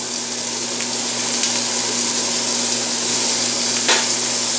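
Chinese broccoli stems fry in a hot pan with a loud, dense, continuous sizzle, steady from start to finish with faint stirring scrapes and a low electrical hum beneath.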